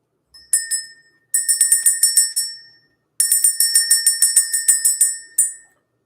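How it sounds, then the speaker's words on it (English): Bright metallic bell strikes rung during a morning spiritual energy-clearing session: a short burst of chimes, a pause, then two longer runs of rapid ringing with sustained shimmering tones, clear and alone with no talk. "Let's go ahead and ring the bell."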